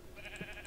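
Sheep bleating in the video game Minecraft, a single short, nasal bleat heard alone and close, over a faint background hum.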